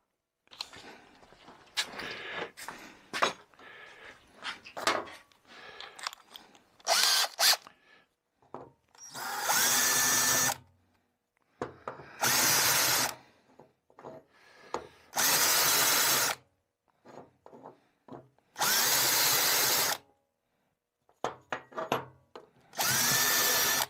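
An end mill cuts a bore in a billet drive-flange cap for a Dana 60 kingpin axle, heard as loud, steady whirring cutting passes of a few seconds each, separated by silent pauses, after a stretch of lighter tapping and handling noise.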